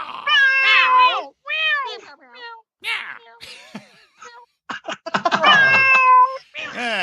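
A person imitates a cat with a run of loud, drawn-out meows in uneven bursts, voiced up close with short gaps between them.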